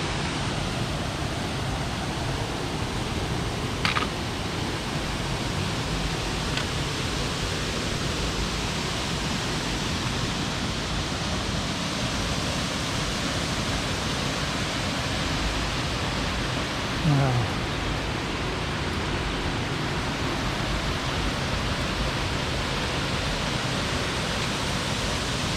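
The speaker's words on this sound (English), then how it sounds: "I've got an amazing waterfall all to myself." Foster Falls waterfall in South Cumberland State Park roars as a steady, even broadband wash of falling water, close and constant for the whole stretch with no talking.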